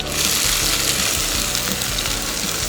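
Onion goes into a pan of browning garlic and sizzles loudly and steadily, a close, continuous frying hiss with faint stirring knocks underneath.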